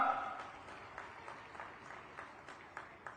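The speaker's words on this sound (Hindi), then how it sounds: "पंडित मोहनलाल बडोली जी का हमारे बीच में आने पर ये पूरा 36 बिरादरी जोगी समाज हार्दिक अभिनंदन स्वागत करता है तालियों के साथ।" Crowd applause welcoming a guest at a Guru Gorakshnath festival gathering in Haryana, a steady, fairly distant patter of many hands clapping throughout, with faint voices at the start.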